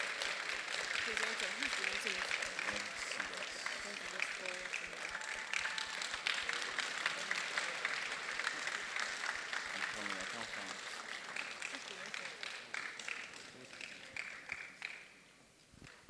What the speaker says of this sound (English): Ladies and gentlemen, please a round of applause.